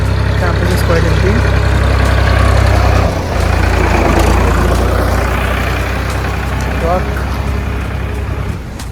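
A loud, steady tractor engine drone with a deep low rumble runs throughout, a heavy motor idling nearby during landscaping work on a campus, with scattered background noise.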